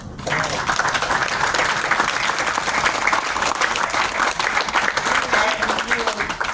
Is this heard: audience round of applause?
yes